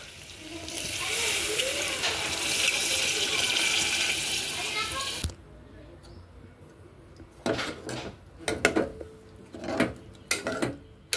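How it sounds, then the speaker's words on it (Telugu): Water pours steadily with a broad hiss into a pot of mutton and drumstick curry coated in salt, chilli and masala, then stops and gives way to several sharp metallic clatters of utensils and a lid. "వాటర్ పోద్దామండి."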